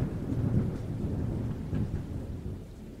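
An approaching thunderstorm over Nashville rumbles with low rolling thunder under steady rain, continuous and moderately distant, with no voices.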